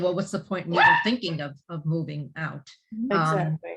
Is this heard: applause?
no